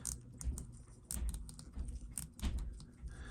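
Small mechanical clicks and ticks from the click ball of a Seiko watch being taken apart, close and quiet, coming in uneven bursts with no talk.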